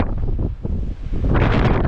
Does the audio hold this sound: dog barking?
no